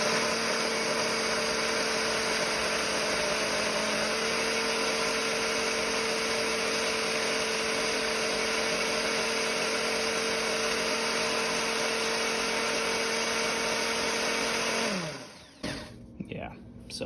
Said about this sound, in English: So I just pulse it a couple times, right? Seems pretty simple. It gets pretty loud